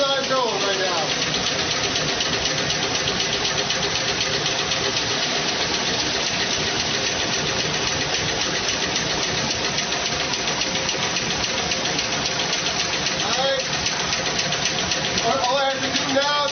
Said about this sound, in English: This machine is running on its own right now.